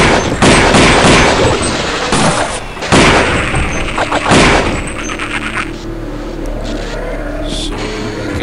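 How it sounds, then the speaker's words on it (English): Rapid bursts of gunfire in the Half-Life: Affliction mod, loud and close, with several volleys in the first five seconds before trailing into a low rumbling game ambience. "He's shooting it."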